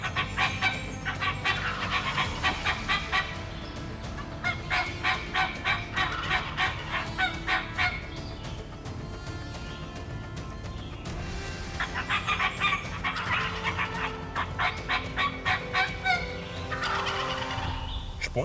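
Wild turkeys in New Brunswick, a tom with hens and jakes, gobble and cluck in repeated rhythmic bursts, fairly close and loud, calling back and forth with no talk over them.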